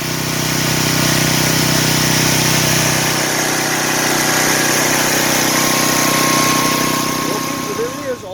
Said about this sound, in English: I let it run out here in the yard for about an hour.